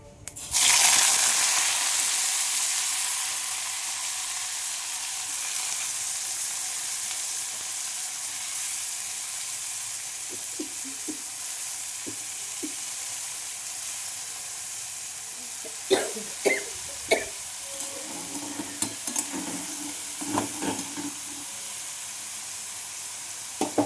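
A panch phoron, cumin and dried chilli tempering sizzles loudly in hot oil. It opens with a sharp burst of hiss that settles into a steady frying crackle, with a few light utensil clinks and stirring sounds near the end.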